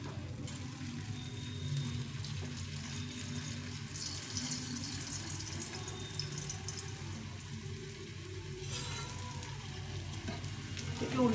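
Paratha fries in oil on a heated nonstick griddle, giving a steady close sizzle that holds through the whole stretch, with a few brief scrapes and clatters near the end.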